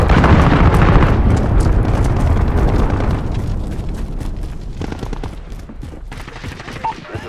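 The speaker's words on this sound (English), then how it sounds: "Allied cruise missile on the way." Cruise missile strike in a first-person shooter game: a loud, heavy blast that opens into a rumbling roar with crackling debris, slowly decaying over several seconds, with scattered sharp pops and a final small thump.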